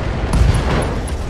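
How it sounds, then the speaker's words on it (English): An ammo explosion in the BattleTech mech game gives a short, dense, rumbling blast with crackling bursts, loud and brief. "Ammo explosion, I'll take it."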